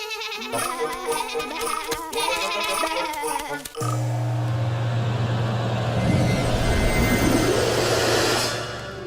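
Cartoon sheep bleat in a quick, wavering series of close, loud calls over musical accompaniment, then give way to a sustained low drone and rushing noise.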